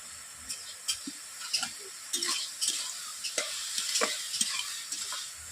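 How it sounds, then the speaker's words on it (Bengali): Spoon scraping and stirring bottle gourd chutney with turmeric and dry mango powder in a pan, with a steady low sizzle under repeated clinks and scrapes. "হলুদ আমচুর দেওয়ার পর আমি এইভাবে নেড়ে নিচ্ছি।"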